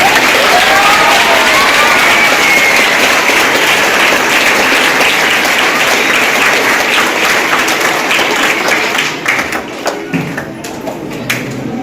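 Students and teachers at an Independence Day school event burst into loud, sustained applause, dense clapping that carries steadily before thinning and fading near the end.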